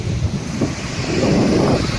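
Water pours steadily over Phadke dam at Naneghat, a continuous broad rushing roar mixed with gusts of wind buffeting the microphone, with no voices.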